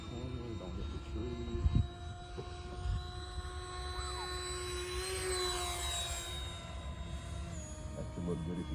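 A large electric ducted fan RC model jet holds a hover in calm, windless air, its steady high-pitched fan whine droning continuously and fairly close, with small shifts in pitch as the throttle is adjusted.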